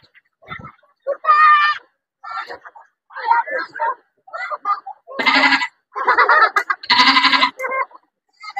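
A man imitates a goat with a string of bleats, short nasal calls in a choppy rhythm that grow louder and longer toward the end, heard close and alone.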